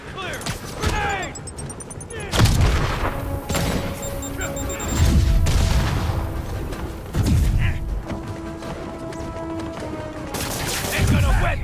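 A grenade blast and bursts of gunfire in Marvel's Spider-Man, with heavy booms and rapid shots layered over game music and shouting voices, loud and dense throughout.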